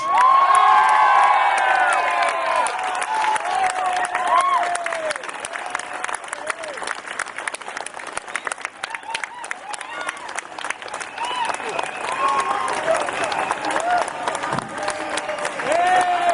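A large outdoor crowd at the Occupy London protest applauds and cheers loudly to welcome a speaker, with whoops and shouts over steady clapping that continues throughout.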